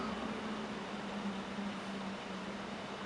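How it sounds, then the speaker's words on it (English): Steady broadband whooshing hum of a computer fan with a faint low tonal drone, constant and unchanging, no voices. "My computer is so loud."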